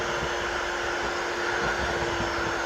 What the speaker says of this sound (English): So, now we need a mixer. Here's a mixer.